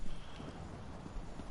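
Horse hooves clip-clop steadily in the video game Elder Scrolls Online, a soft, even trotting rhythm heard alone at moderate distance.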